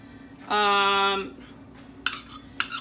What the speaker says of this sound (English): I'm using a whole can of the refried beans and 1 whole cup of the sauce, whichever one you choose, and mix those together.